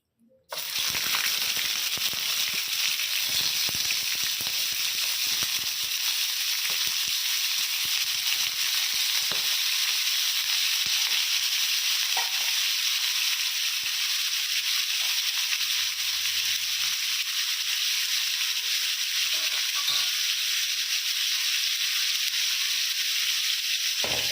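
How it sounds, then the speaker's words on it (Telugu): Washed chicken sizzles steadily in a hot pan for a simple fry made without onions, a loud, even hiss of frying that runs unbroken from start to finish with no voices. "ఇందులో మనం ముందుగా కడిగి పెట్టుకున్న చికెన్ని వేసుకోవాలి"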